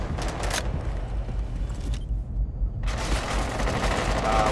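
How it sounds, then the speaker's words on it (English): Gunfire in a video game, shots fired through a window from outside a building, crackling in bursts against a steady background rumble with a short quieter gap before the firing resumes. "They're shooting through the window on the north end."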